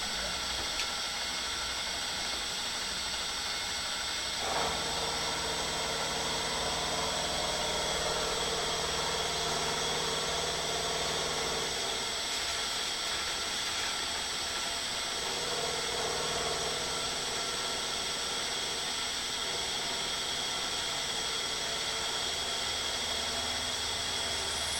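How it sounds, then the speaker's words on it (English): An engine runs at a steady idle around 1200 RPM, a continuous droning hum with a constant low rumble and slight shifts in pitch, heard close and without voices. "It seems to be happy running about 1200 RPM."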